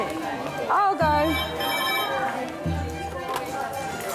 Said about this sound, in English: It's a ring like no other phone that I've heard